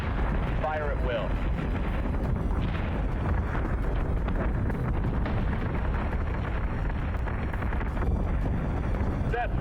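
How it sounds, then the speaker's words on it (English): Ship gun batteries in Battlestar Galactica: Deadlock, a continuous rumbling barrage of heavy booming fire with dense blasts packed together, loud and roaring, with a voice briefly heard over it. "Set secondary battery. Full attack mode. Fire at will."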